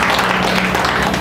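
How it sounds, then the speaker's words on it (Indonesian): Applause at a midweek church service, a dense, steady patter of many hands clapping together across the congregation, loud and continuous for the whole short moment with no voices over it. "Berikan tepuk tangan untuk Tuhan"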